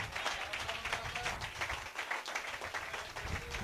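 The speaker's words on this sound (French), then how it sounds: "Donnez-lui une main d'acclamation." A church congregation at a French-language service applauds, with dense, continuous clapping at a steady level throughout.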